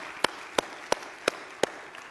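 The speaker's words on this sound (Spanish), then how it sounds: "Dale un fuerte aplauso a él." Five sharp, evenly spaced hand claps ring out in a church service, slow and steady like a lone person clapping rather than a full congregation's applause, with a quiet hum underneath.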